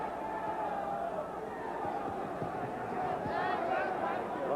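A boxing arena crowd at a WBC super featherweight title fight murmurs in a low, continuous hum beneath a commentator's voice, with no distinct cheers rising out of it.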